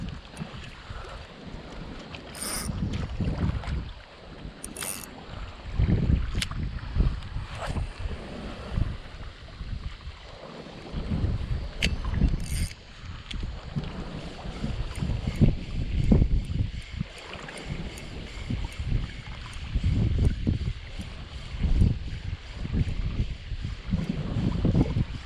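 Strong gusting wind buffets the microphone out on a fishing boat on open water, rising and falling in heavy low rumbling bursts, with faint water and boat noises beneath.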